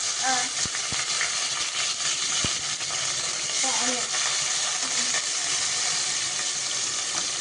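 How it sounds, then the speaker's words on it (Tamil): Onions with curry leaves fry in a pan, giving a steady broadband sizzle and hiss that runs the whole time, with a few faint clicks of stirring near the start. "இப்போ ஆனியன் ஆட் பண்ணியாச்சு. இப்போ நல்லா ஃப்ரை பண்ணலாம்."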